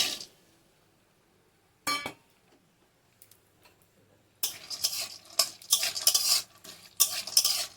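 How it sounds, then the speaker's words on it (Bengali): Cashews and raisins fry in a little ghee in a kadai, with near silence and a couple of brief clinks before a loud, crackling sizzle sets in, broken by short spatula scrapes. "কড়াটা আবার ঘি দিয়ে দিয়েছি অল্প করে আর কাজু আর কিশমিশটাকে ভেজে নিয়ে নামিয়ে নেবো"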